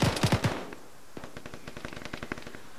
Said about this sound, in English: Fuck, we're still taking fire here.